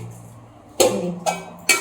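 Lid taken off a cooking pot of vegetable biryani, three sharp metallic clinks close by, evenly spaced, in a quiet kitchen.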